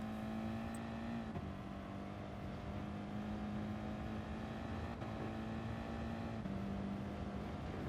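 Audi TT race car in Gran Turismo Sport on the Nürburgring Nordschleife, engine droning steadily at a held pitch with slight gear-change dips, close and continuous throughout with no talk.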